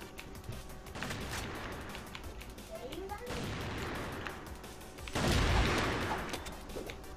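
Online shooter CrossFire gunfire plays as bursts of rapid shots and booming sniper reports in game audio, moderately loud and dense, with a louder burst toward the end.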